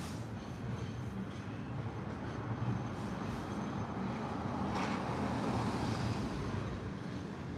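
A Blackpool tram rumbles past on its street rails, a steady low roar with faint squeals that holds for several seconds, close by and without talk.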